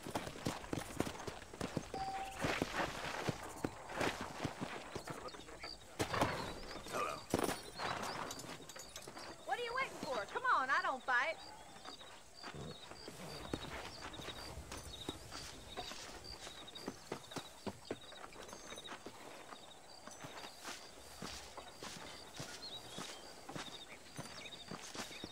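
Horse hooves clip-clop steadily as a rider travels on horseback in the video game Red Dead Redemption, a rhythmic close beat that continues under stretches of spoken dialogue between characters.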